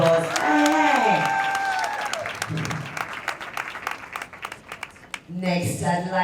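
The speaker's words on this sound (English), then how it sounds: "Please rise up for recognition. A round of applause." Audience applause for Joke Silva at a movie screening, brief clapping mixed with cheers while an amplified voice talks over it and music or chatter continues around.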